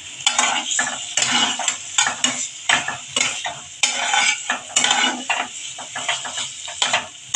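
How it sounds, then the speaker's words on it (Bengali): Ridge gourd and shrimp sautéed with poppy seed and green chili paste: a spatula scrapes and stirs the pan in quick, uneven strokes over a low sizzle, close and fairly loud, with no talk. "এখন আমি বেশি নয় 1 মিনিটের মতো কষিয়ে নেব।"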